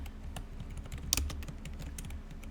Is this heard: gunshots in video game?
no